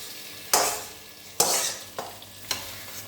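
Sambar powder and chillies frying in hot oil, with loud stirring scrapes at regular intervals over a steady low sizzle, close and without talk.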